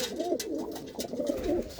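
Pet pigeons of mixed breeds kept for sale coo softly and repeatedly, a faint warbling murmur close by with no speech.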